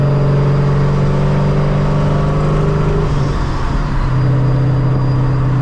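Car engine pulled hard while driving, a loud steady drone close by that climbs in pitch and then drops and climbs again as gears change, with no talking.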